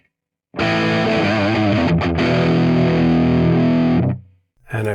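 A distorted rhythm electric guitar tone through an Axe-Fx processor rings out as a single loud sustained chord for about three and a half seconds, dipping briefly, then cut off before another chord starts.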